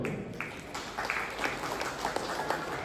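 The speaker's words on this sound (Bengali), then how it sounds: "তো স্বপনের জন্য জোরে একটা হাততালি।" Audience applause at a foundation gathering honouring a former junior state champion, steady clapping from a crowd filling the clip at moderate level with faint voices underneath.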